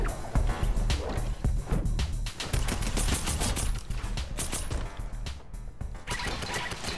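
Rapid bursts of gunfire from the Fortnite video game, dense and loud throughout, with crashing impacts and brief voice activity mixed beneath the shooting.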